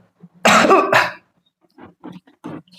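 A man coughs once sharply with a throat-clearing rasp, followed by several quieter short coughs or throat clears spaced apart.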